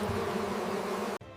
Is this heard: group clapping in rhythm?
no